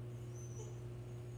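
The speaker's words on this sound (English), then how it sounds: "that's my dog." Dog whimpering indoors, a faint thin whine rising briefly over a steady electrical hum.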